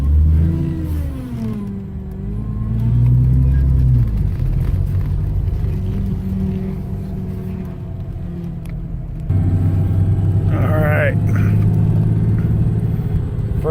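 A cold 1995 Ford Thunderbird SC engine runs close by, its low rumble rising and falling through several revs, with a heavier, louder surge in the last few seconds.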